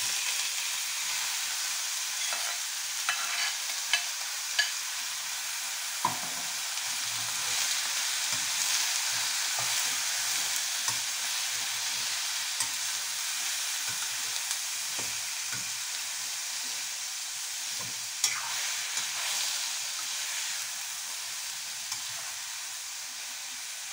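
Ground pork or beef frying in a small pan for lumpiang shanghai filling, a steady bright sizzle with occasional louder pops and crackles, close and continuous throughout.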